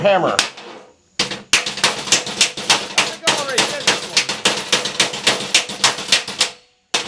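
A hammer strikes a rusty junk saw blade in a rapid series of sharp metallic bangs, about two dozen close, loud blows in quick succession after a brief pause.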